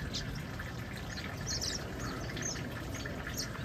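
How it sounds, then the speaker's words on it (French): Sunny outdoor corner where many birds gather, with scattered chirps and tweets of small birds over a steady broadband hiss, moderately distant and fairly faint. "beaucoup d'oiseaux ici, ils adorent venir dans ce coin-là"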